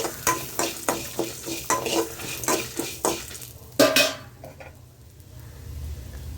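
A spatula scrapes and taps rhythmically in a pan as coriander seeds, dried chillies and coconut are stir-fried for chutney, over a soft sizzle, close by, ending with a louder clink then quieter frying.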